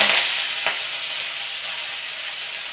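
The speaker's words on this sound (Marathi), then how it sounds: "मेथी आपण तेलावर परतून घेऊया तेल आपलं गरम झालेलं आहे याच्यात आपण ही भाजी घालूया" Fenugreek leaves sauté in hot oil, giving a steady broadband sizzle and hiss with a brief stirring clack early on, continuous and close throughout.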